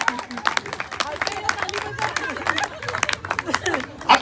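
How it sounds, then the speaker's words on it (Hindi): An audience claps at a comedy show, scattered uneven hand claps mixed with crowd murmur, moderately loud and spread through the whole stretch. "तालियां कमजोर है भाई"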